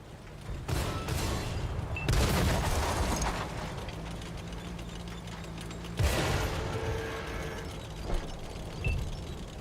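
Tank cannon fire in World of Tanks, a few loud booming shots spaced several seconds apart, each followed by mechanical clanking and rattling.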